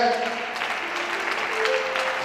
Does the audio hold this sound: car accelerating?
no